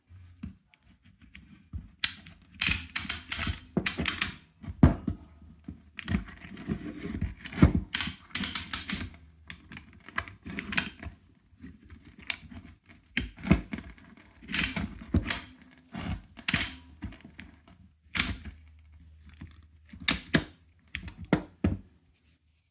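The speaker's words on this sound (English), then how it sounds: "Here's a little test of the ratchet mechanism." A ratchet mechanism on a homemade Rabaconda-style attachment for a ConStands MD4Z tire changing tool is tested, giving bursts of rapid, close mechanical clicking that stop and start through the clip, with short pauses between runs.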